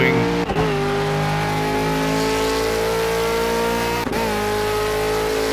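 Ford Falcon V8 Supercar lapping the Nurburgring in the Project CARS racing game, its loud high-revving V8 drone holding steady with two brief dips at gear shifts.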